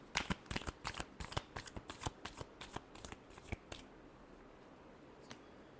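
Quick riffle of tarot cards being shuffled up close, a dense flurry of crisp papery slaps that then stops, leaving quiet room tone with no talking.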